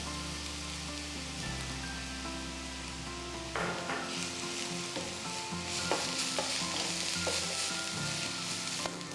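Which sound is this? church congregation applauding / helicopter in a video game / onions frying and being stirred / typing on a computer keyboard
onions frying and being stirred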